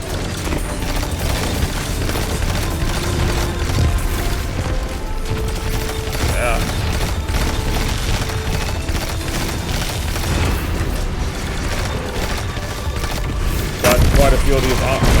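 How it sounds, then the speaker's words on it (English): Airstrike explosions in the video game Destiny 2 make a dense, continuous rumble of booms and rapid blasts that swell louder near the end, with a voice talking over them. "Oh, that's an airstrike? I thought that was a turret."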